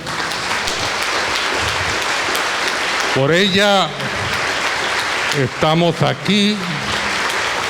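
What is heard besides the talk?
congregation applauding at church service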